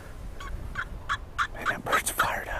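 Wild turkeys gobbling in Nebraska during a spring hunt, a run of repeated rattling gobbles, the first ones spaced apart and farther off, then louder overlapping calls toward the end.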